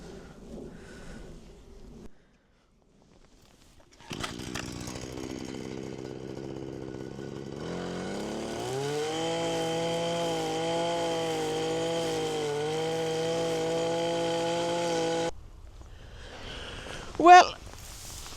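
String trimmer strimming grass on an allotment: a steady, loud motor whine that holds for about ten seconds and then cuts off. Faint handling noises come before it, and a brief sharp sound follows near the end.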